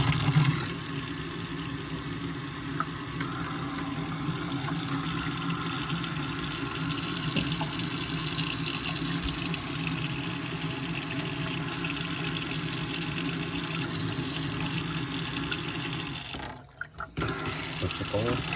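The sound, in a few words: water running from camper faucet, sputtering air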